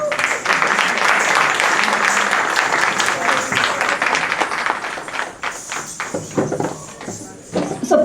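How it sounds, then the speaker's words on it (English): Audience applause at an Indian classical music and dance event, a loud sustained burst of many hands clapping that thins and fades toward the end, with some voices underneath. "let's give another round of applause"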